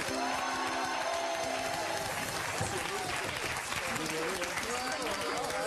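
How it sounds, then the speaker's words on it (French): Studio audience of a televised quiz show applauds the winning team, a dense steady wash of clapping and crowd noise with voices mixed in throughout. "vous applaudissez quand même Noam"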